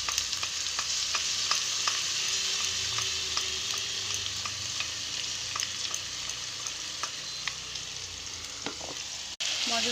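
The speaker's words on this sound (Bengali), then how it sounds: "এবারে এই মশলাটা কড়াতে দিয়ে দিলাম।" Spice masala frying in a hot kadai for a red chicken curry, a steady close sizzle with intermittent scrapes and clicks of stirring, ending in a sharp clunk.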